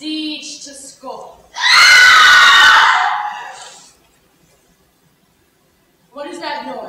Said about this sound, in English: It's the cry of women